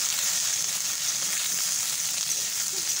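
Pointed gourd and potato pieces fry in a pan with a dense, even hiss of sizzling oil that holds steady and close throughout, with no voices.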